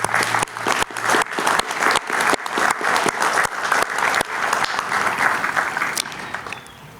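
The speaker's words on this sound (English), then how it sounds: "if we can just have one round of applause for all of our distinguished guests." An outdoor Memorial Day ceremony audience claps for distinguished guests, individual claps audible at first and then merging into a fuller, steady round that tapers off toward the end.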